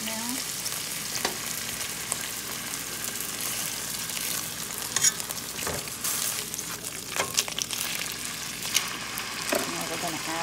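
Sirloin steak sizzles steadily in a pan through the whole stretch, a constant close frying hiss with occasional clinks and shuffles, and a voice briefly speaks over it.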